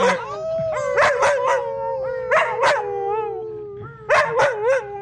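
A dog named Octo howls up close in long, wavering, loud cries, broken by a few yips, with three main bursts of howling and no talk.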